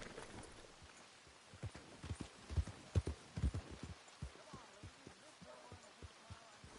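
Horse hooves clip-clop steadily in a PS4 video game, a rhythmic run of close, thudding steps over a low background bed that grows louder midway and then settles.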